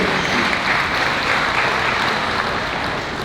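A crowd at a livestock sale of champions claps steadily in a dense, continuous round of applause that stays loud and even throughout, with no voices above it.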